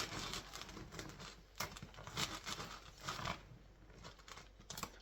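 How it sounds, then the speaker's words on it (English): Crusty loaf sawn with a serrated bread knife, a dry crackling, crumbly rasp in steady back-and-forth strokes, close and fairly loud throughout with no talking. "let's see what it looks like when we cut it"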